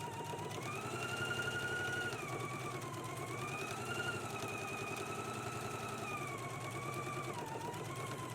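A sewing machine stitches a facing seam onto a bodice for a Simplicity S3216 Gunne Sax dress, giving a steady, close motor whir with a slightly shifting whine that runs unbroken for the whole stretch, with no voices.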